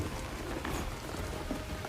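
Steady rain patters across surfaces in the video game Hitman III, a dense continuous hiss of drops with no voices over it.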